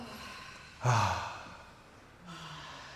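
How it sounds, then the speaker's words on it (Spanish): A single deep breath during a guided breathing exercise: one audible inhale-exhale sigh that swells sharply and fades over about a second, followed by a softer second breath, close and quiet with no talking. "Y hacemos una respiración profunda"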